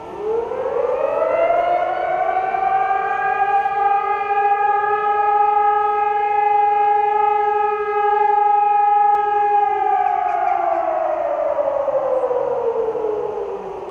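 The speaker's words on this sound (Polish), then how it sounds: "Dźwięk syren upamiętnił ofiary wydarzeń z września" A loud civil-defense siren sounds in commemoration on World Siberian Deportees Day in Łomża, Poland, wailing steadily, rising at first, holding a sustained tone, then slowly winding down toward the end.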